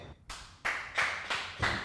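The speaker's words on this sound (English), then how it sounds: "Clap it up for Mike Cannon." Comedy club crowd claps for a stand-up comedian in a series of five sharp, separate bursts spaced roughly a third of a second apart, moderately quiet with brief gaps between.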